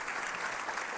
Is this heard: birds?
no